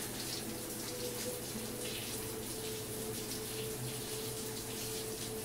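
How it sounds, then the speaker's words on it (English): A hot shower running steadily in the video game Life is Strange 2, a constant hiss of falling water with a low hum underneath, continuous and even throughout. "Hot shower."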